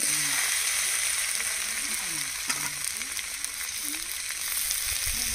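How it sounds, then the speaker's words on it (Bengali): Tomatoes frying in a pan give off a steady, close sizzle that runs throughout, with occasional scraping and stirring sounds and some faint background tones. "এবার টমেটো ভেজে নেব।"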